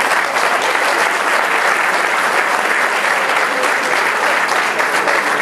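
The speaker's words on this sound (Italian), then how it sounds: "E facciamo un altro applauso alla lista insieme con Rago." Loud, dense applause from a crowd at an Italian mayoral campaign rally, continuous and steady clapping with no talk over it.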